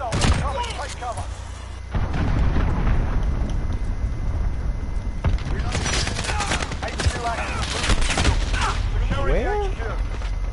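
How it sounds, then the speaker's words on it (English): A cruise missile strike explosion in a video game: sharp booms and gunfire-like bursts hit hard after a quieter opening, with a voice shouting a warning and continued loud impacts through the rest. "Enemy cruise missile! Coming! Take cover!"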